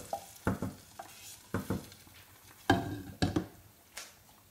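A golden brown tadka goes into masoor dal with a soft sizzle, punctuated by repeated scraping stir strokes from a spoon in the pot, close and fairly quiet.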